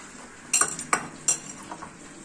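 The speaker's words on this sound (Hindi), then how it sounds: "अब हम इनकी स्टफिंग के लिए पनीर को पहले मैश कर लेते हैं।" Paneer is mashed for stuffing, heard as three or four sharp metallic clinks and scrapes of a utensil against a bowl, close and fairly quiet, then softer taps.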